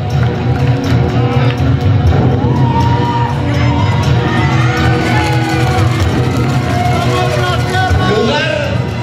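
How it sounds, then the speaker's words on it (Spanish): A crowd at the Miss Earth Nuevo Leon 2015 pageant cheers, whoops and shouts in a loud, continuous roar with babble, voices rising over the noise throughout. "fuerte el aplauso"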